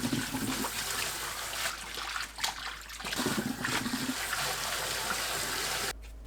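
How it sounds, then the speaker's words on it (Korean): Blanched butterbur shoots being rinsed in cold water, giving a steady close splashing and trickling with a few brief lulls and a louder burst of running water at the end. "찬물에 2~3번 헹궈냅니다."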